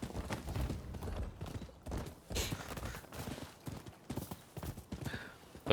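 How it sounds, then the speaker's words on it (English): A horse in the video game Rise of the Ronin clip-clops with rapid, uneven hoofbeats close by, with a brief neigh mixed into the trotting. "Looked like the horse had a bit of a moment there"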